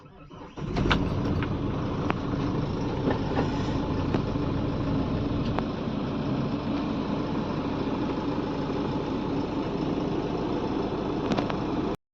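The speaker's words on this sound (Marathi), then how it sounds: "चला आता आपण गाडी चालू करून गाडीला एअर भरून घेऊया" A vehicle engine cranks and catches, then settles into a steady, loud idle running close by, cutting off abruptly at the very end.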